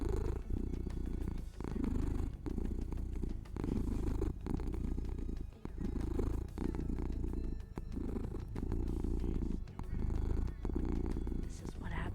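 Close, continuous purring from a cat called Beans, rising and falling with each breath in an even rhythm, with a voice faintly present underneath.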